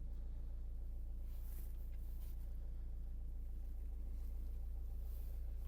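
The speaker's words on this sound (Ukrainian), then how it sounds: "Двигун запускається гарно." A 2011 Opel Zafira engine running at idle, a steady low hum and rumble held evenly and faint, with no voices.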